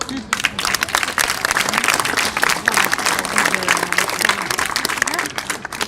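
A theatre audience at a live comedy show breaks into loud, close, dense applause that holds strong for several seconds, with voices mixed in beneath the clapping.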